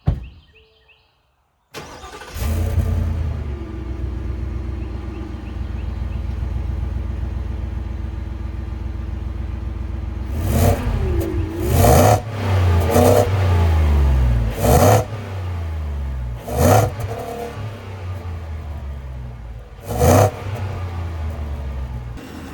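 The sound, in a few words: Ford F-150 XL pickup truck engine starting and running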